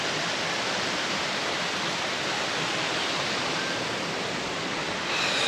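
Zenith waterfall near Pune in the monsoon, a steady, dense roar of falling water that stays loud and unbroken throughout, with no voices.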